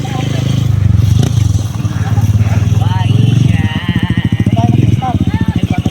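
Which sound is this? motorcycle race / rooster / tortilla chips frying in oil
motorcycle race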